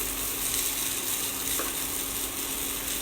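Food is mixed with freshly squeezed lemon juice in a hot pan, producing a steady close-up sizzle and hiss with faint stirring. There is no speech.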